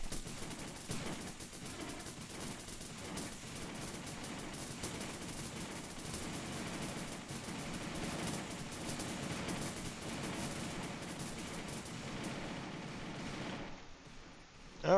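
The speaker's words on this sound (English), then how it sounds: "they are walking straight into the machine gun grinder" Sustained machine gun fire rattles on in a Home Wars battle against bugs, a dense, continuous, moderately loud roar of rapid shots with no pauses before cutting off at the end.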